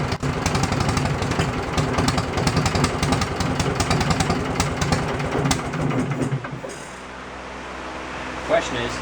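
A Wisconsin engine driving a generator runs loud and close with a steady, rapid rhythmic chug, then cuts off abruptly near the end, leaving a low lingering hum and a brief clank.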